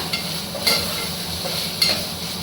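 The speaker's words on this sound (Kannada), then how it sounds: "ಈಗ ಕರಿಬೇವು, ಈರುಳ್ಳಿ, ಶುಂಠಿ ಬೆಳ್ಳುಳ್ಳಿ ಪೇಸ್ಟ್ ಸ್ವಲ್ಪ ಫ್ರೈ ಆಗಿದೆ" Curry leaves, onion and ginger-garlic paste frying in oil, a continuous soft sizzle with two distinct scrapes of a spoon stirring the pan.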